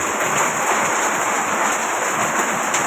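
Steady, dense hiss of rain pouring down in Tondo, Manila, a constant loud wash of drops with no breaks and no voices.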